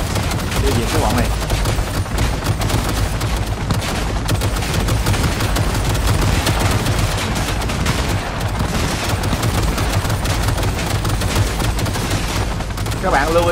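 Dense, continuous gunfire from a shootout in Cyberpunk 2077, with rapid machine-gun bursts from automated turrets layered over steady shots, loud and unbroken throughout.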